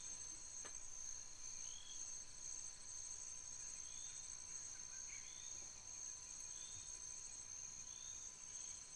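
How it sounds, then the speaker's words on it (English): Crickets chirp at night in a steady, evenly spaced pulsing trill that runs unbroken and fairly close, with a high ringing insect drone beneath and no voices. "I mean the night sky and the sound of crickets."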